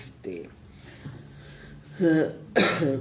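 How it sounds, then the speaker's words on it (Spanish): A couple of short, harsh coughs from a sick woman turned away from the microphone near the end, muffled and close, following a quieter stretch with a faint voice-like murmur. "Yo voy a tratar de desviar un poquito mi tosecita para que no les llegue el audio directo"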